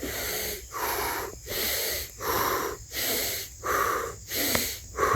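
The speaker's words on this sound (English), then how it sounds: "as I'm finishing up, I'm starting to do some deep breathing" Slow, deep breaths drawn in and pushed out in a steady rhythm, close and fairly loud, about six cycles with short pauses between, taken while finishing a normal shower before switching to cold water.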